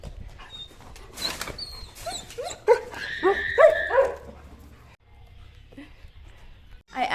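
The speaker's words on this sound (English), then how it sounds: "I actually love our German Shepherds" German Shepherds on a farm bark and yip in a short excited flurry, fairly close, amid background rustling and a brief human voice, then things settle into quieter movement.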